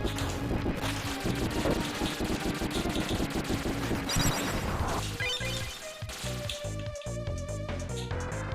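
Guns firing in a 3D sci-fi SNES action video game, rapid repeated shots blended into a busy mix of game music and crashing effects throughout.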